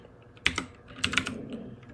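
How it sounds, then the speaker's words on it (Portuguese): Keys clatter on a computer keyboard while coding in VS Code, a few quiet close clicks in two short bursts with soft pauses between. "se você digitar o ponto de exclamação e apertar Enter"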